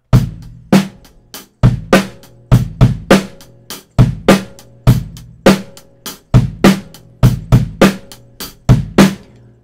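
A drum groove played live on an acoustic drum kit, with a close, loud kick, snare and hi-hat locked into a busy, syncopated drum and bass style pattern that runs steadily without any voices.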